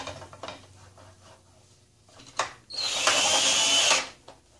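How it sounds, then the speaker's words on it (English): A power drill driving self-tapping screws into a yardstick brace: a few short clicks and taps, then one sustained whirring drive of about a second that stops abruptly, close by. "These are self-tapping screws."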